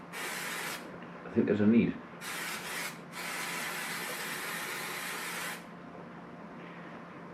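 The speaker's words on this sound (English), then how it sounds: "all I'm doing is spraying a bit of waterproof on there" Waterproofing spray hisses from an aerosol can onto an item in several bursts: one short, then a longer, steadier stretch of several seconds. A person talks briefly in between.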